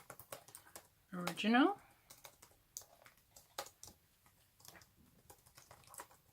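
Computer keyboard keys click in quick, light taps, close and fairly quiet, with a person briefly speaking partway through.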